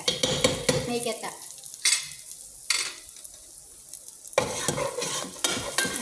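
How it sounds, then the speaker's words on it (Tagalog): Meat saluna with coconut milk being stirred in a pan, with bursts of sizzling frying and scraping utensil clatter broken by short quieter gaps, close and fairly loud. "gigisa ko na yung saluna. Yung salunang may may gata"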